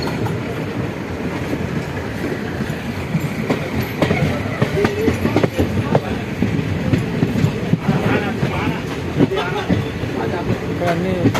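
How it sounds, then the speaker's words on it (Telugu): A train at Gadwal railway station rumbles with rhythmic clattering wheels and metallic squeals, loud and close, while people talk over it. "ఇక్కడ అన్నీ ట్రైన్ నిలబడి ఉన్నాయి"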